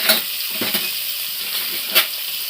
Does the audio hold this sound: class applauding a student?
no